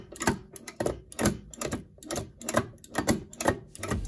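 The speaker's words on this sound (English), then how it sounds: "the stainless steel gear lever smacks against the top plate" Stainless steel gear lever on a budget sim racing shifter smacks against the metal top plate in a quick, uneven run of sharp clacks, close and clear with no talking.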